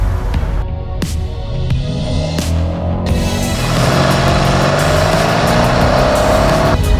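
An upgraded supercharged V8 Mercedes-AMG car heard from the cabin while driving, a loud low engine drone with several sharp clicks early on, then the revs climbing steadily under acceleration.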